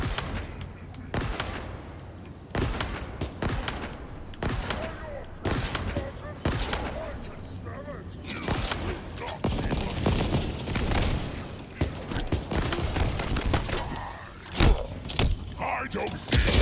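Pulse rifle gunfire in Halo Infinite's campaign, with rapid bursts of shots, bangs and battle noise running throughout, loud and dense, mixed with game sounds and occasional talk.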